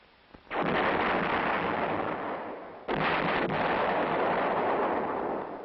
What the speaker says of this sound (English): The variable recoil and rate of fire are the same as the 8-inch howitzer.